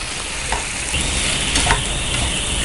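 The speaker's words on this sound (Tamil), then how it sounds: "இப்போ நம்ம உருளைக்கிழங்கு காலிஃப்ளவர் ஆட் பண்ணிக்கலாம். நல்லா பரட்டி விடுங்க." Potatoes and cauliflower frying in oil for aloo gobi, a loud, steady sizzle close by with the scrape of stirring running through it and no talking.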